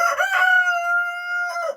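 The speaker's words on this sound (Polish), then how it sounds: "kogut tutaj ładnie pieje" A rooster crows once in a backyard chicken coop, close and loud, a drawn-out tonal call that holds steady before trailing off at the end.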